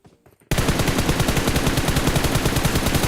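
Rapid automatic gunfire in a multiplayer shooter video game, a loud, steady burst of close shots that starts abruptly after a brief quiet moment and runs without pause.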